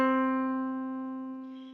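A single piano note, C, sounds alone and clear, its sustained tone slowly decaying with no other sounds around it.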